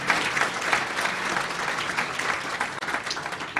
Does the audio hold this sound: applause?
yes